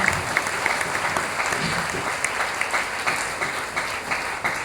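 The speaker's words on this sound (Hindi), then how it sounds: "जोरदार ताली बजाइए यार" Audience applause at a motivational speech event in Ghatkopar, a loud, sustained crowd clapping that carries evenly throughout with a few sharper claps standing out.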